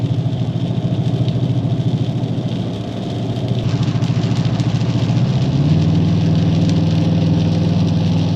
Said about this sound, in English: I have my foot almost all the way to the floor before the truck gets up and goes